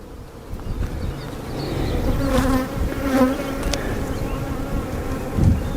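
Honeybees buzz steadily and close during a hive inspection among brood frames, a continuous droning hum with light wind noise and no talk.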